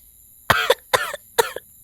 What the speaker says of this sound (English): Twilight coughed.